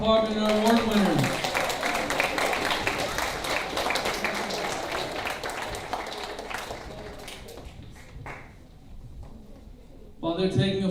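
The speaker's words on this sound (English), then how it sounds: "how about a big round of applause for our English department and our award winners" Applause for English department award winners at a school achievement day ceremony: a crowd claps loudly, then gradually thins into scattered claps before a voice speaks near the end.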